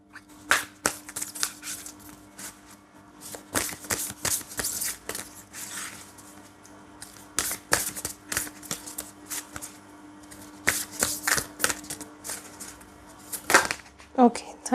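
Tarot cards riffle and snap in repeated bursts of shuffling, with crisp flicks as single cards are drawn from the deck, fairly close, while someone speaks between the shuffles.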